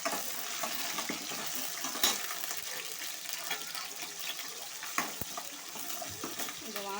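Green chillies dropped into a pan of frying onions and garlic for a fish curry, giving a steady sizzle with stirring clatter and a couple of sharp clinks, and no talk.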